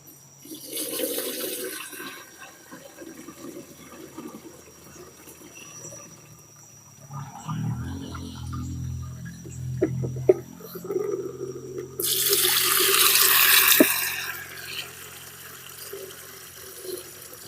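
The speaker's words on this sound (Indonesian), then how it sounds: "Lalu kita tambah air." Water is poured into a pesticide mixture for a 16-liter sprayer, heard as a soft splash and trickle that swells into a louder gushing pour near the end, with no talk.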